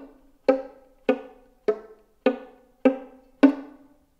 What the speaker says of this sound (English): using only half pressure with the left hand to create kind of a choked, muted sound.